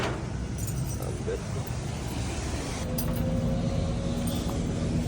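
Keys jangle and clink near a vehicle during a breakdown, a light metallic rattle over steady road and engine noise, with people talking throughout.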